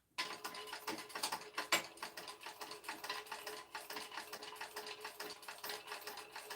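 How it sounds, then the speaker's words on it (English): A sewing machine top-stitches down the sides of a bag, giving a quiet, close, rapid mechanical clatter with uneven bursts and brief pauses. "I'm just top stitching down the sides of each of these at 1/8 of an inch"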